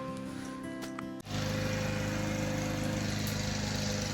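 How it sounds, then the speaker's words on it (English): A lawn mower running outside, heard from indoors as a steady droning engine hum that jumps abruptly louder partway through and then holds constant, with no talk. "So Gus is outside mowing the lawn."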